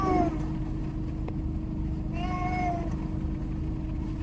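Two short cat meows, one at the very start and another a couple of seconds later, over a constant low rumbling engine-like hum.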